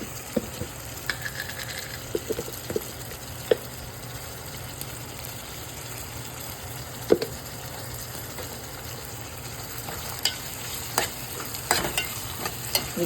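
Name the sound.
ginger garlic paste frying in oil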